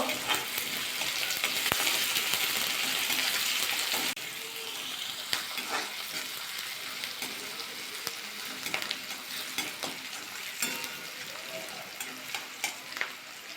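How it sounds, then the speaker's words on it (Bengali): Onions and green chilies sizzle and crackle in hot oil, a steady frying hiss broken by occasional stirring scrapes and clinks. "পেঁয়াজটা দিয়ে কাঁচা লঙ্কাটা একটু ভাজা করে নেবো"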